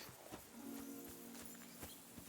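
Horse in the video game Kingdom Come: Deliverance 2, soft, quiet hoof clip-clops at a slow walking pace with a brief snort-like tone in the middle.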